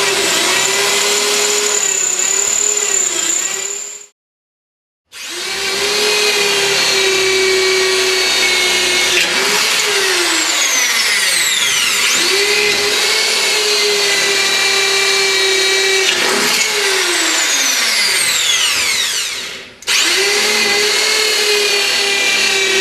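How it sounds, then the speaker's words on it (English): A drill with a 6mm bit bores straight through steel box section and a rear panel, running as a loud continuous whine that dips and rises under load, with a brief full stop around the fifth second and another short pause near the end. "we're going to drill it with a 6mm drill bit all the way through"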